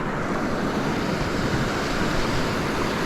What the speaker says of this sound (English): That's a bit of water, Dory, huh?